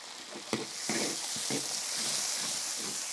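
Ginger, garlic, dried chili and Sichuan pepper stir-frying in a hot wok, a steady loud sizzle with sharp spatula scrapes and clinks breaking through it, no talk.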